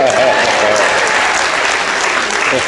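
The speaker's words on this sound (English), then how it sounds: "Give him a round of applause." Loud, dense applause from a magic show audience aboard the Disney Magic cruise ship, a steady wash of clapping filling the whole moment without a break.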